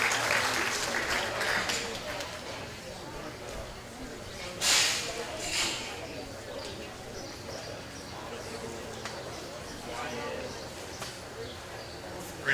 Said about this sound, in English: let's give these exhibitors a nice round of applause